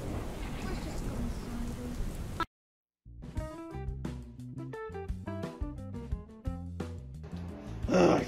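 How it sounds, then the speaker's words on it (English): Steady hiss of rain falling, then a brief silence followed by a melodic musical passage over the rain. "we gotta wait out here until it stops raining."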